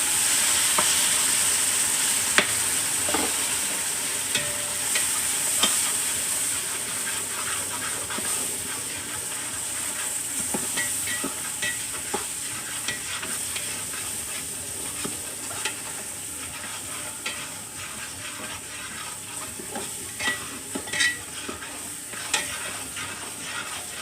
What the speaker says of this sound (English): we get to add our Guidry seasoning to it and continue to stir it